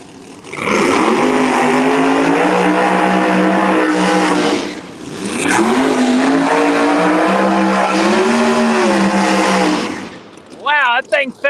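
Supercharged drag race cars, including a Chevelle, launching at a Street Outlaws No Prep Kings event at GALOT Motorsports Park: two long, loud high-revving engine pulls climbing in pitch, split by a brief dip, then cutting off near the end.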